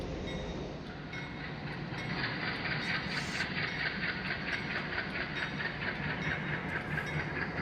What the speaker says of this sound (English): here we have the local switchers coming in to get ready for their work.